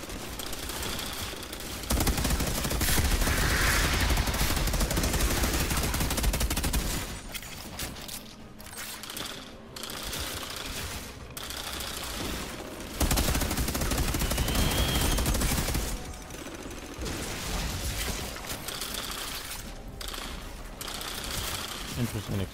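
Sniper gunfire from the video game Outriders crackles in bursts amid dense, loud game action and explosions, with someone talking over parts of it.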